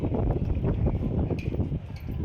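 Strong wind on Talsari beach near Digha, during light rain, buffets the microphone as a loud, continuous low roar that swells and dips unevenly throughout.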